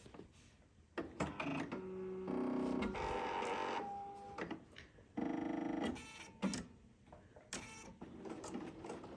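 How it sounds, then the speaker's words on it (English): A serger over-sews the folded edge of a bias fabric piece, the motor whirring close up in short bursts separated by pauses. "I simply kind of over sew as I go around each unit"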